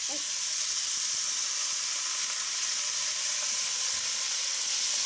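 Noodles dropped into a shrimp stir fry sizzle and hiss loudly in the hot pan, a continuous close frying noise with no talk.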